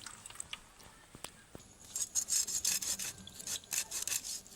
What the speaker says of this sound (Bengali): প্রথমে এই মাথাটা কাটছি